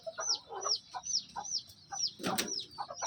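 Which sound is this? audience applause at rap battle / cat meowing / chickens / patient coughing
chickens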